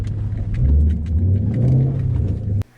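A car with an MT82 manual gearbox rumbles and revs in a couple of rising and falling swells as the clutch is worked hard, loud and close, then cuts off abruptly.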